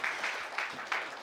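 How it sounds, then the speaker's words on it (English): Applause from a forum audience at a live event, a short steady patter of many hands clapping with a few louder swells, heard alone. "A round of applause."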